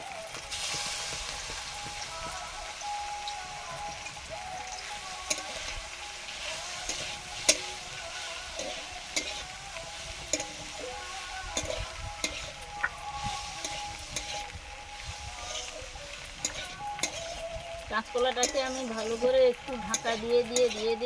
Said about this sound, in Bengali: কাঁচকলাটা ভাজা হচ্ছে ঢাকা দিয়ে দিয়ে ভাজছি